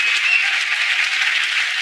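A studio audience at a talk show claps steadily, a dense, even wash of applause that holds at the same loudness throughout with no voices on top.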